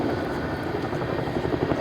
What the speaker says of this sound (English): we'll get the Chinook, which was travelling at about 150 miles an hour, to a stop in a space smaller than a football pitch.